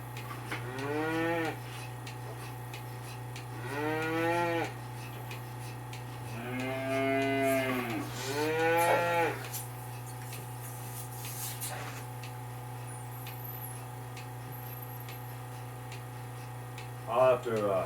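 Dairy cattle penned in with their calves on a farm give several long, drawn-out moos at middle distance, separated by pauses, with a steady mechanical hum in the background and a sharp knock near the end.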